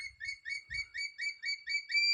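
Crested serpent eagle calling like small birds, a faint run of thin, evenly spaced high chirps repeated about ten times, with a few soft low thumps beneath.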